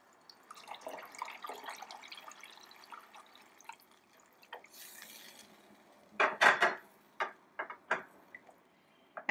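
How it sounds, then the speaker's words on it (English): Chicken broth poured into a pot of chili, heard as liquid splashing and dripping into the metal pot along with clinks of a utensil or container against its rim, close by and getting louder toward the end, with no talking. "the next ingredient that I'll be adding is chicken broth"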